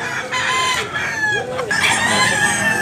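Chickens at a Tabunok, Cebu hatchery cluck and crow loudly and close by, one bird crowing over steady clucking from several fowl.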